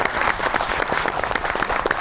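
Studio audience clapping throughout at a comedy show, dense and even applause from many hands, close and loud for the whole stretch.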